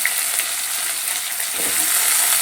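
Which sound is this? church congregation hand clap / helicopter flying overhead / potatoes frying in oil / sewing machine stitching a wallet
potatoes frying in oil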